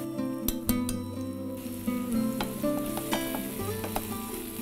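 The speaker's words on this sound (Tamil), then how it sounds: "இது கொஞ்சம் நல்லா வதக்கிக்கோங்க." Ginger and turmeric sizzle and fry in a hot pan, close and steady, with several sharp clinks of a utensil stirring the mix and no talking.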